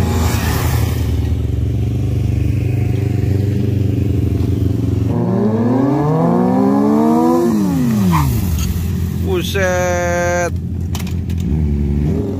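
Four-cylinder engines revving hard one after another, each rising then falling in pitch, over a steady loud idle rumble, with a sharp high rev near the end.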